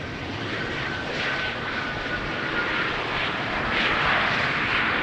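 Airliner landing on runway 18R at Amsterdam Schiphol with its thrust reversers deployed, a steady broadband roar that swells slightly toward the end, heard from a distance with no voices.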